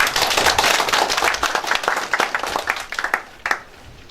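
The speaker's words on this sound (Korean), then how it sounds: "박수로 시작하도록 하겠습니다." An audience claps to open a citizens' network policy seminar, a dense burst of applause that thins into scattered individual claps and fades out.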